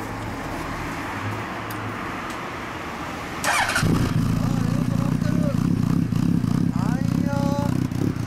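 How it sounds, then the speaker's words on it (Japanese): A 1996 Honda NSR250R SE motorcycle fitted with an aftermarket Laser muffler starts up partway through and settles into a loud, steady idle close by, following quieter ambient noise and a brief spoken reply. "エンジンを聞かせてください"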